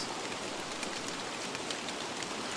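Rain in the survival video game Don't Starve falls as a steady, even hiss of dense drops, continuous and moderately quiet with no voices.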